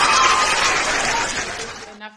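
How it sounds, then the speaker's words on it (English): One person claps in a quick, dense burst that runs loud for about two seconds and then stops abruptly. "I'm gonna clap for you."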